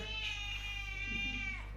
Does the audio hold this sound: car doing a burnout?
no